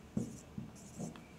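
Marker or chalk writing a sentence on a classroom board gives a few short scratchy strokes, quiet and close.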